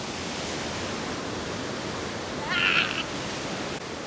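An Adirondacks waterfall roars as a steady broadband rush of falling water, loud and constant throughout, with a brief high chirp or squeak cutting through near the middle.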